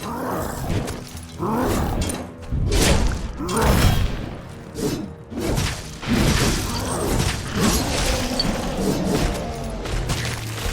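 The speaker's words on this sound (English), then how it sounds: "Got a bunch of explosions happening." Explosions in the video game Netherworld Covenant during a boss fight: repeated booming blasts and crashes roll over one another in a dense, loud barrage, with rumbling impacts rising and falling throughout.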